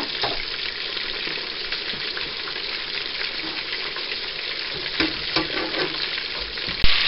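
Butter bubbles and sizzles steadily in a pan with bacon, a dense continuous frying hiss with a few sharper pops and a light clink near the end.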